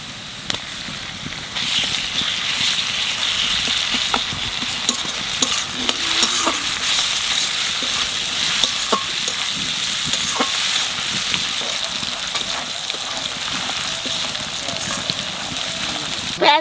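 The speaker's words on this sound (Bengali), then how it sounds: "রসুন সব বাজা হয়ে গেছে" Garlic fries in hot oil with a dense, continuous crackling sizzle, while a spoon scrapes and knocks the pan at irregular intervals, close and unbroken throughout.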